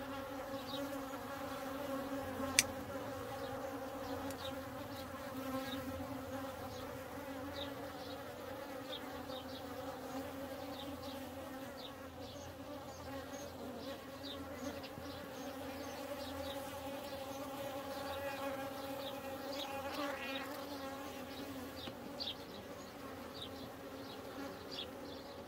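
Honey bees buzz continuously around a hive filled with natural comb, a dense steady hum of many insects lasting throughout, with one sharp click near the start.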